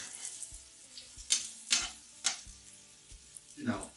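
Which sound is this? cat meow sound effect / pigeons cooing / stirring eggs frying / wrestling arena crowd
stirring eggs frying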